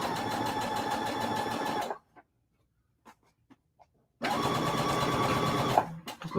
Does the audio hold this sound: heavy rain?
no